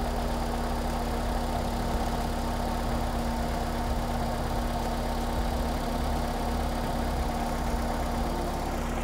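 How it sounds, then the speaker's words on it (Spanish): A Volkswagen Golf/Jetta MK3 engine idles steadily after starting, giving a continuous, even, mid-low rumble close by without any voices. "Ahora lo que voy a hacer va a ser encender el carro"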